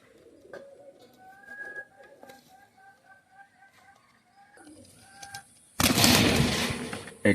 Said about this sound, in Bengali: এটা হচ্ছে আপনার মাদি কবুতর